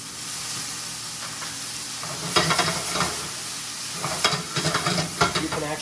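Garlic hisses and sizzles in a hot frying pan with greens, quiet at first, then louder crackling bursts and scraping stirs as it cooks.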